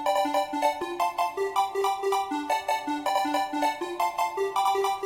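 A single-note synth stab, sampled for a hardcore tune, tracks the piano rhythm in short punchy hits. The stabs are bright and evenly paced, and they play alone at moderate volume.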